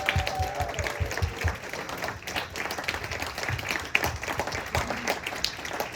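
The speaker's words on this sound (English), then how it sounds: "let's give them a huge round of applause" Audience applause fills a gala party marking a rabbi's 40th anniversary at Temple Shalom Emeth: steady, dense clapping with a few low thumps and a brief tone near the start, sustained for the whole stretch.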